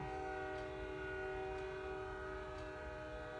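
A passing train outside an apartment sounds its horn in a long, steady chord, fairly close and continuous, over a low rolling rumble of the rail cars.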